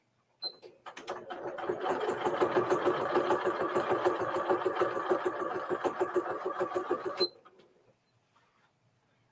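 Sewing quilt binding, a sewing machine starts up, builds to a steady rapid stitching run for several seconds, then stops abruptly, leaving near silence at the close.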